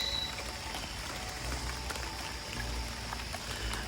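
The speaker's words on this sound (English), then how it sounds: "It's raining out here, so that's what you hear. You're hearing the rain." Rain falls steadily outdoors in a fruit forest among plum trees, a dense, even patter with scattered drops close by, continuous and alone with no talk.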